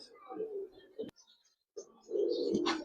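Pigeons coo at a pigeon market where Giribaz pigeons are sold, giving soft, low coos in two short bursts separated by a pause, close by and fairly quiet.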